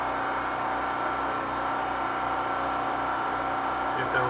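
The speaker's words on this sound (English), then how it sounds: "Sorry about the generator noise." A generator runs steadily at an off-grid solar house, giving a constant, fairly loud broadband drone with an engine hum that holds unchanged throughout.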